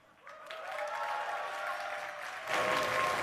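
Audience at a StarCraft 2 tournament match cheering and applauding, a steady roar of clapping and shouts that swells louder near the end, with no talk over it.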